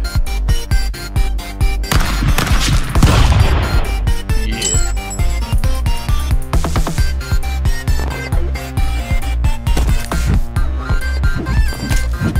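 Gunfire in the brawler game Stick Fight: rapid, loud bursts of shots and clanking hits repeat densely throughout, layered over constant game music and effects.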